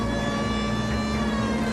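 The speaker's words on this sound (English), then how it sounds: "Go ahead and turn the siren on." Police car siren in the video game L.A. Noire, a steady sustained wail holding a constant pitch under game music, loud and continuous throughout.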